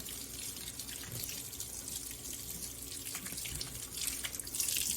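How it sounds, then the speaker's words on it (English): Hands rinsed under a running faucet at a sink during a food-safety handwashing lesson, a steady close stream of splashing water that swells slightly louder toward the end, with no talking. "you can rinse off your hands."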